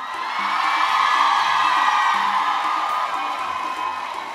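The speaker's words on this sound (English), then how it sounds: "Now people are screaming for you like you gave them money." A large awards-show audience cheers, whoops and screams in a continuous, fairly loud roar that swells and then settles slightly, with no clear speech on top.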